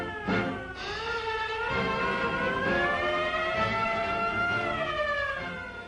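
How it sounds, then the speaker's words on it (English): Several warship alarm sirens wail together aboard French navy ships at Mers El Kebir in 1940, their overlapping pitches gliding up and down in a loud, continuous alarm with a rumbling background. "French seamen are called to battle stations by the wail of sirens."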